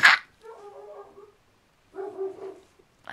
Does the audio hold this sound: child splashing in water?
no